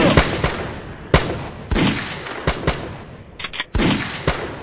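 Repeated gunshots from a western movie shootout, sharp loud cracks fired in irregular bursts with short echoing tails, about eight shots over a few seconds and no talk.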